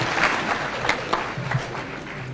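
An outdoor political gathering in Laikipia where the crowd gives scattered, moderately loud applause for a speaker, a dense patter of clapping with some cheering mixed in.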